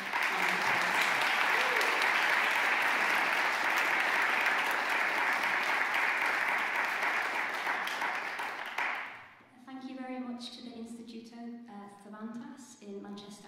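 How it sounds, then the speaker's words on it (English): A concert audience at a celebration of zarzuela and Spanish music breaks into long, full applause that fades out after about nine seconds, followed by a voice speaking. "Can we just give her a little bit of applause?"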